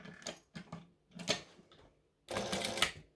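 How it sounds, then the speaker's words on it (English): A home sewing machine stitching through many layers of fabric and webbing for a handbag, with short mechanical bursts that end in one longer steady run, close and fairly loud. "If your machine can't stitch through this many layers"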